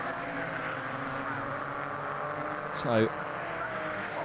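Porsche race cars in the Porsche Club Championship sweep through McLaren corner on the Brands Hatch Indy circuit, a faint, steady engine drone heard far off beneath a commentator's voice.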